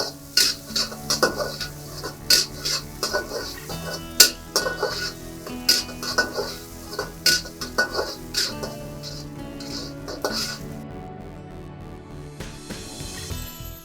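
Chillies, curry leaves and onion are frying in a pan for a baby egg curry, with a soft sizzle broken by irregular metallic clinks and scrapes of a spoon stirring, then a quieter stretch at the end.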